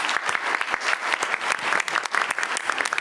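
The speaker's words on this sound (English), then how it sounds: "if we can close just with a round of applause for our elected and appointed officials up here" An audience at a 2019 transportation council annual meeting claps for elected and appointed officials, dense steady applause throughout, close and fairly loud.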